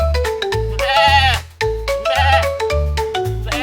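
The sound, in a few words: goat bleating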